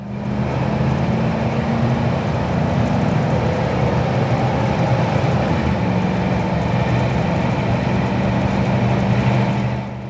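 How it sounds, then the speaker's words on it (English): A 1994 Chevrolet C1500 pickup with a 5.7 V8 rumbles under throttle, a deep steady exhaust drone heard from inside the cab, continuous and fairly loud with no talk. "let y'all hear the exhaust a little bit"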